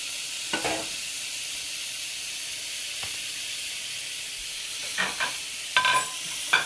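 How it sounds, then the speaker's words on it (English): Peppers and onions fry in a pan with a steady hiss and sizzle. A few soft clacks of stirring or utensils are heard near the start and again toward the end. "I'm going to throw my peppers and onions on the other side of that pan in just a second"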